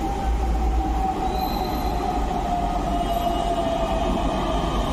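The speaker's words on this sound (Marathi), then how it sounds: "मेट्रो येते बघा, भरलेली राहते का हो" A Pune metro train pulls into the station, its loud, steady rumble filling the whole stretch with rolling wheel noise and a thin squeal of metal wheels throughout.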